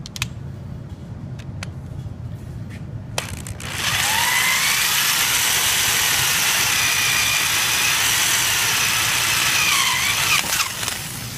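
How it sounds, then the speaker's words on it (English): A variable speed power drill whirs up to high speed after a few quiet seconds, drilling metal for a bolt hole, running loud and close with a steady whine before winding down at the end. "We're going to take our variable speed drill."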